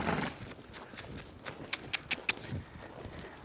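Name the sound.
horse hooves clip-clopping while being ridden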